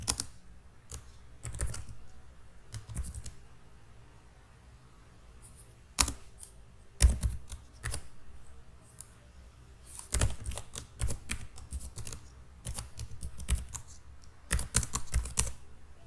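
Code typed on a computer keyboard, quiet bursts of close key clicks separated by short pauses, with a few brief louder taps.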